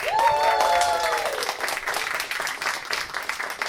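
Audience at a stand-up comedy slam in Tokyo applauds to vote for a team, a steady wash of clapping and crowd noise that starts loud and eases slightly, with a brief whistle-like tone near the start.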